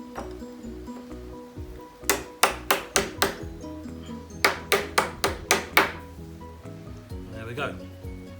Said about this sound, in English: Small chisel.